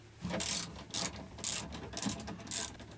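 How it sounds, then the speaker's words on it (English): A ratchet clicks in short quick bursts, four or five runs of metallic ratcheting, while the bolts holding a van's driver's seat are undone. Fairly quiet and close, with no one talking. "I'm gonna take off the driver's seat in order to make sure this cable gets where it needs to go."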